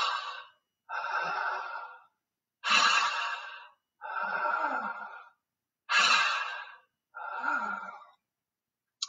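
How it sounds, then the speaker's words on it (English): Slow, deliberate breaths pass through a constricted throat, giving a hushed, ocean-like rush. Six long strokes alternate inhale and exhale, with short silences between them, close and fairly soft. "So you're constricting the muscles while you're breathing in, and that's creating the sound of an ocean."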